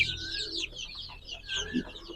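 Desi chickens clucking on a farm, soft scattered clucks and short calls at a moderate distance, fairly quiet, with faint background noise.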